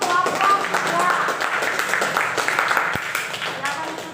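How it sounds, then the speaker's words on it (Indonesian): A classroom audience claps for a presenting group after their project presentation, a dense, fairly loud patter of hands with voices mixed in underneath. "Tepuk tangan dulu untuk kelompok"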